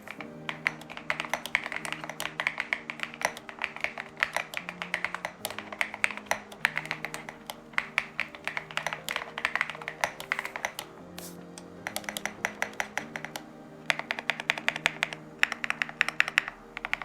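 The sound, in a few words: mechanical keyboard typing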